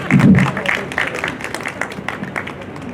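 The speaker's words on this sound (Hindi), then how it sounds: "एक बार तालियां तो जोरदार।" Brief burst of clapping from the audience at an awards ceremony held by a medical welfare association, loudest at the start and thinning quickly into scattered claps with voices murmuring beneath.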